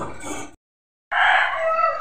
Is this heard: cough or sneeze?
no